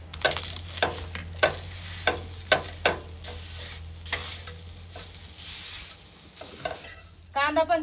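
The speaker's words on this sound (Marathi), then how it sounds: "आता कांदे टाकीते त्याला परतायला" Chopped onions sizzle in a hot pan over a village wood-fired stove while a spoon scrapes and stirs them in repeated sharp strokes, the frying hiss steady underneath, with no talking.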